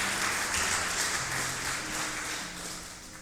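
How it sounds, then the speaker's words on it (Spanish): A church congregation applauds together during a worship service, a steady broad wash of clapping that fades slightly toward the end, with no talk over it. "Denle un fuerte aplauso al Señor."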